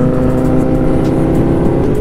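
Loud, close engine drone from a Kawasaki 10R and a KTM motorcycle with aggressive exhausts, a thick sustained roar with layered harmonics and no break.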